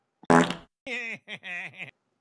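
A human voice imitates a fart during a told comic story: a raspy burst followed by three drawn-out buzzy, voiced blasts in quick succession.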